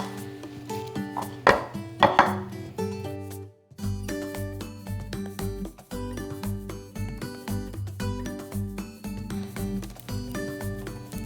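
Sharpened vegetable knife chopping round onion on a cutting board for scallion pancakes, a steady run of close, crisp blade strikes over a continuous bed of background music with chiming tones.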